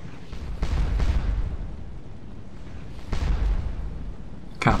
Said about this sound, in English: the artillery's finally up and firing